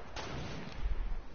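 A sniper shot in the Fortnite video game, a low boom with a burst of rumbling impacts following it, heard in a noisy game mix.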